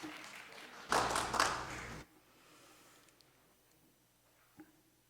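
Congregation at a Sunday worship service giving a short burst of applause lasting about a second, then quiet room tone with a faint tap.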